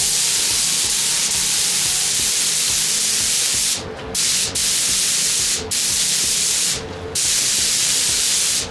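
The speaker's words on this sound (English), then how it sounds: "We're gonna mix it up and we're gonna get spraying." A spray gun hisses loudly and steadily while spraying clear coat on metal flake paintwork, with a few brief pauses where the trigger is released before spraying resumes.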